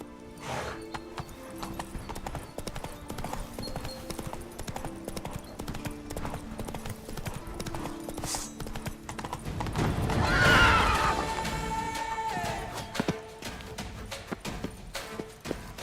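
Roach the horse in The Witcher 3 game, continuous galloping hoofbeats with a loud neigh midway, set against game music and ambient sound.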